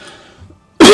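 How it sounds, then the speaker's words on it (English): A single sharp, loud cough bursts out close to the microphone at the end, after a near-silent pause. "I will be coughing a little bit"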